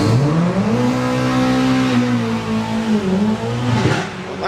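Rear-engined Ford Fiesta doorslammer drag car accelerating at a drag race, a loud sustained engine roar with rising and falling pitch as it revs through gears, heard alone.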